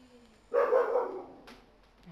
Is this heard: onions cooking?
no